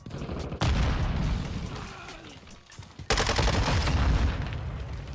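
Rocket launcher fire in Call of Duty MW2 multiplayer, with two heavy booming blasts, each followed by a sustained rumbling roar, loud and close.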